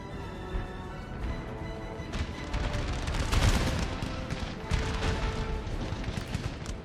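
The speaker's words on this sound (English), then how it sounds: "Point blank rippling fire." Musket volleys in Napoleon: Total War, a rippling, rolling crackle of many shots blending into a continuous rumble with heavier booms, fairly distant and steady over several seconds.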